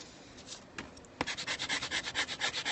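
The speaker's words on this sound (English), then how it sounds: "and just rubbed the graphite" A bone folder rubs graphite onto the back of a paper page to make a transfer, producing faint, quick, rhythmic scraping strokes close up with no voices.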